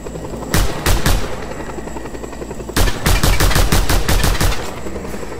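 In the video game Just Cause 2, helicopter rotors thump steadily while bursts of rapid machine-gun fire rattle loudly in two clusters, the second longer and more sustained.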